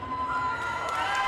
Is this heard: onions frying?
no